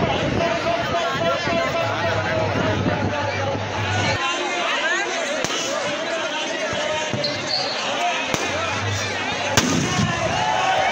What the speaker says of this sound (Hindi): आतिशबाजी है रही है सारी